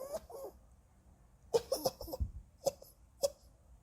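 A child with a lingering cough lets out a few short, faint coughs in separate bursts, quiet and close, with soft breathing between them.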